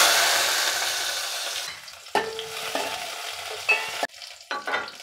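Onions fry and get stirred in a pan while cooking Nellore-style brinjal bajji, a steady loud sizzle that fades, then sharp scraping stirs and clatters up close.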